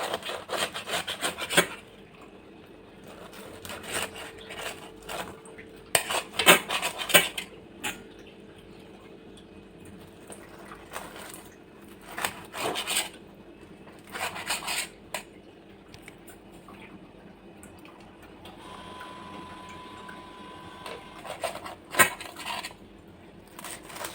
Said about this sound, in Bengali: আমি এখন এটাকে পিস পিস করে কেটে নেব।